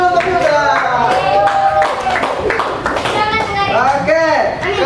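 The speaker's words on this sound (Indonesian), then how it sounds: "Beri tepuk tangan dulu untuk Yuda." Children in a classroom clap their hands in a loose burst, close and loud, mixed with kids' voices and lively chatter throughout.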